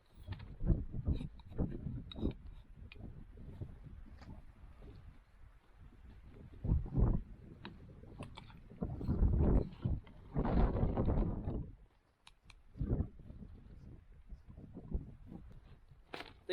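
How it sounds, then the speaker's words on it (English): Gale-force wind buffets a Naturehike Cloudpeak 2 tent at a solo wild camp in the Carneddau, roaring in uneven gusts that swell and rattle the fabric, with a brief lull before the blasts return. "Literally having to hold the tent shape when that wind comes in strong."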